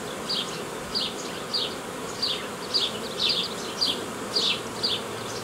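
A dense hum of honeybees buzzing close up on hive frames, with a recurring brighter whine of individual bees passing roughly every half second.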